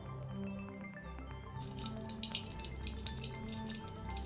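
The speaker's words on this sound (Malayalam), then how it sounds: "ഇനി നന്നായി ചൂടായ ഒരു മൺചട്ടിയിലേക്ക് കുറച്ച് വെളിച്ചെണ്ണ ഒഴിച്ചു കൊടുക്കാം" Coconut oil poured into a hot clay pot crackles and sizzles faintly and close by, with a few small drips before the hiss swells and carries on to the end.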